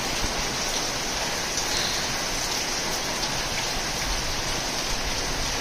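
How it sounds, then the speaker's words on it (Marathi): Heavy rain pouring down in a village, a dense, steady hiss of drops on surfaces filling the whole scene at constant loudness, with no voices. "गावी तुम्ही बघू शकता केवढा पाऊस आहे."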